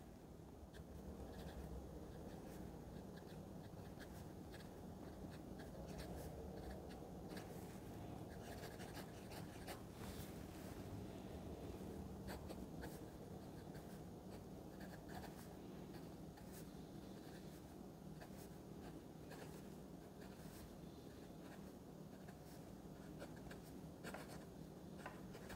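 A Jinhao 100 fountain pen scratches softly across paper in a steady, continuous stream of faint, close strokes with no talking over it.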